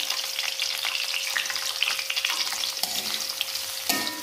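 Garlic, onion and shallot sizzling hard in hot oil in a pan for a stir-fry, a dense steady crackle with scattered pops and a clink of a utensil near the end.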